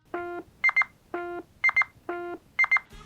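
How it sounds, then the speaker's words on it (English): A Nintendo Switch 2 controller beeps in a repeating pattern: a steady tone, then a quick pair of higher chirps, cycling three times, clear and close. "Switch 2 controllers even make a beeping sound."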